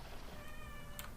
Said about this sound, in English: oh, my cat wants to be on the video as well